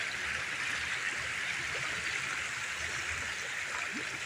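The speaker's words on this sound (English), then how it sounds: "During the summertime, this is a creek here." A small cold creek along a woodland trail flows steadily, with a close, continuous rushing and burbling of water and no voices.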